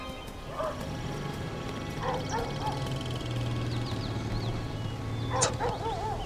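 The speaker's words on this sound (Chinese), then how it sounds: "好像是狗叫的声音。" A dog barks and yelps in a few short bursts from somewhere off in the distance, set against steady outdoor background noise with no talking.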